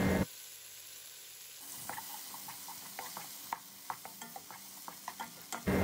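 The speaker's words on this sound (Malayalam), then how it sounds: "ഒരു പാനിലേക്ക് നെയ്യ് ഒഴിച്ച് ചൂടായാൽ തക്കാളിയും പച്ചമുളകും ചേർത്ത് കൊടുക്കാം." Tomatoes and green chillies frying in hot ghee in a pan, a soft steady sizzle with scattered clicks and taps of stirring, fairly quiet and close, following a brief high tone at the start.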